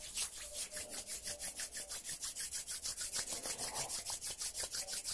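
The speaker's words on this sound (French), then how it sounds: "Frottons nos mains" Two hands rub briskly together in a quiet guided meditation setting, making a soft, even, rhythmic swishing at about six strokes per second that runs steadily throughout with no speech.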